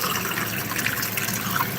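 Tap water runs steadily into a cup holding a thermometer beside a cichlid aquarium during a partial water change, a continuous close hiss and splash with no talking.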